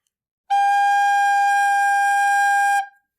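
A recorder sounds one G whole note, a clear, steady, pure tone held for a little over two seconds at even loudness, with no voice over it.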